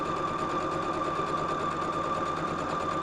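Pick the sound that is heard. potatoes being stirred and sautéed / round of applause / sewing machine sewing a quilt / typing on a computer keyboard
sewing machine sewing a quilt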